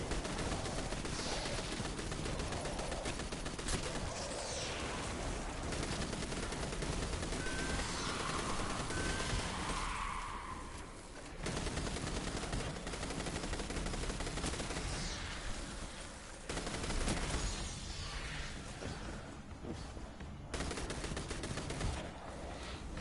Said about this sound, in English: So yeah, I really like this auto rifle.